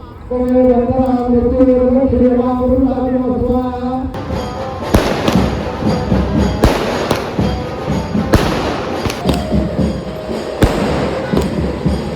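Firecrackers burst during a Chaitra Navratri goddess immersion celebration. After a few seconds of tonal music, dense crackling pops and sharp bangs go off continuously and loudly, with scattered louder explosions.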